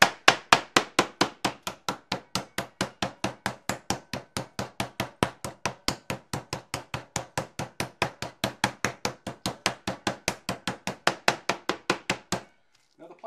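A meat mallet pounds a pork loin flat through plastic wrap, dozens of sharp, evenly spaced thuds in a steady fast rhythm, loud and close, stopping abruptly near the end.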